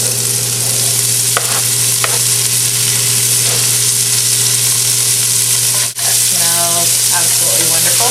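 Shallot and bacon fry in a hot pan, a steady broadband sizzle with intermittent stirring scrapes and clinks, close and loud throughout with a brief dip near the middle.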